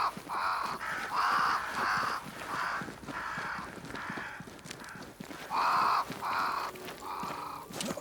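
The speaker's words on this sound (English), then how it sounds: "Crows. They flock to that great tree up there." Several crows caw loudly in repeated harsh bursts in the fantasy video game Banishers: Ghosts of New Eden, calls coming in rhythmic clusters with short pauses between, over a low ambient background.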